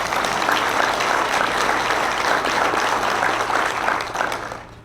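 An audience at a chamber of commerce legislative panel breakfast applauding sponsoring partners, a dense, steady clatter of many hands clapping together that holds evenly for several seconds and then fades out at the end.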